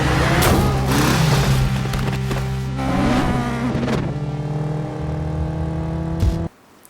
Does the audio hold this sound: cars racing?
yes